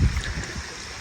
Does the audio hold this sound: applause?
no